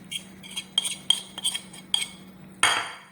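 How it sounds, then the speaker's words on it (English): Milk, yeast, egg yolks, vanilla and butter being stirred together in a bowl, heard as a series of light utensil clinks and scrapes against the bowl with short pauses, ending in a louder scrape. No voices. "I'm going to mix that up a bit."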